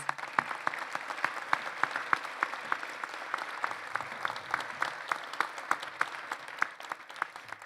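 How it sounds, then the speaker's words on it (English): Audience at a paramedics awards celebration applauding in a steady, even patter of many hands, moderately distant and soft, continuing without voices over it. "can we please give her a round of applause?"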